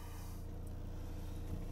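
A 2010 Insignia diesel engine with an excessive EGR flow fault (P0402) idles steadily and somewhat unevenly, a low continuous rumble with a slightly lumpy, rough pulse throughout.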